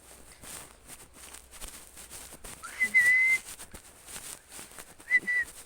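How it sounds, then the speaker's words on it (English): Someone whistles two short, steady high notes a couple of seconds apart, over quiet footsteps and light background movement. "I'm getting used to whistling."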